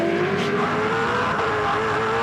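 A 2005 Supercars race car with a broken exhaust header roars past at close range at turn 4, its engine note harsh and raspy with a rough, uneven buzz, fading slightly as it goes by.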